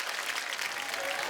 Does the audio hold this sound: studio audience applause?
yes